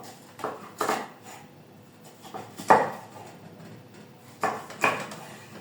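A knife julienne-cutting bell peppers on a board: scattered clicky chops and soft scraping strokes come in small bursts with pauses, close and moderately loud, with no talking.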